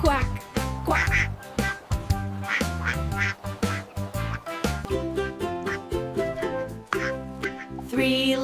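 A voice sings repeated duck quacks in a lively children's tune over steady instrumental backing, the quacks imitating a duck rather than coming from one.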